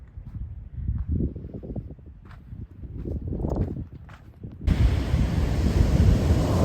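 Ocean surf washing onto a beach at a redwood park near Trinidad, California, a steady hiss and rumble that swells louder in the last seconds, with wind buffeting the microphone and footsteps earlier.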